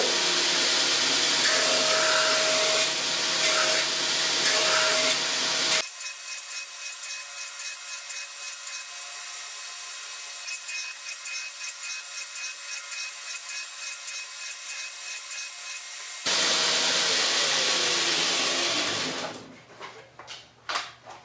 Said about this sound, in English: Go ahead and turn off the grinder and check to see how we did.